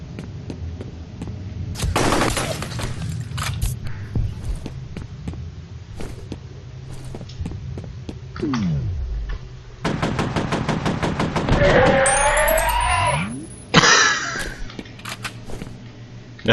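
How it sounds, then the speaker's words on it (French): Gunfire in the video game F.E.A.R., bursts of rapid automatic shots with scattered single cracks over a low game hum, loud and close, with whooshing effects between volleys. "J'ai pu tirer par balle."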